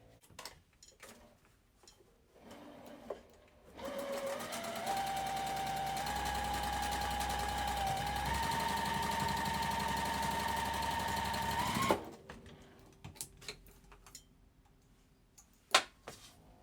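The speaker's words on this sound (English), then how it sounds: "Now we're going to sew this together" A sewing machine stitching quilt block pieces together for a card trick block runs in one steady, loud whirring burst of about eight seconds, its pitch rising slightly, with scattered handling clicks before and after.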